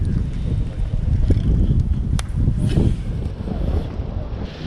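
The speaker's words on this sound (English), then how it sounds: "that wind is really gonna make this audio crusty" Steady wind buffeting a microphone outdoors beside a public pond, a loud, continuous low rumble with gusty swells throughout, no voices.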